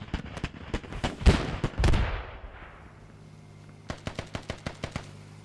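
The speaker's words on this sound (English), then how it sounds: "a lot of grenades going out there. And Mag randomly firing the guns" Machine-gun fire in the military shooter game Squad: rapid bursts of shots, then heavier blasts around one to two seconds with a lingering echo, a lull, and more sharp bursts near the end.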